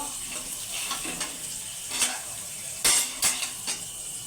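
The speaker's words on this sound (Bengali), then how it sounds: "ডিমের আলু ভাজা হয়ে এসছে আর একটু ভেজে তুলে নেব" Potatoes frying in a pan for egg curry, a soft sizzle broken by several stirring scrapes and utensil knocks, close by with no talk.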